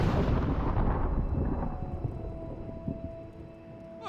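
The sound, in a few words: fireworks in the video game Dreamfall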